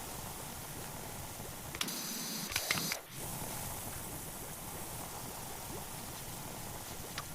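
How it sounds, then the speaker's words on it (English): Steady broadband pressure washer spray in PowerWash Simulator 2, soap jetting continuously at close range, with a brief interruption midway before the hiss resumes. "Let's spray down some soap"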